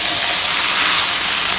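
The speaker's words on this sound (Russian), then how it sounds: "в конце жарки добавляю туда чеснок. И уже там обжариваю до готовности еще 1-2 минутки." Garlic frying with shrimp and other seafood in a hot pan: a loud, continuous hiss and crackle of sizzling oil, steady and close, with no talking.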